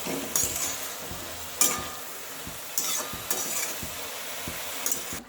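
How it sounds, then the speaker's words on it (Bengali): A spoon stirs spiced matar saag (pea greens) sizzling in a hot pan, with repeated scraping strokes and soft clinks over a steady frying hiss, close and fairly quiet. "এর গুঁড়ো আমি দিয়ে দিলাম, একটু ভালো করে মিশাই"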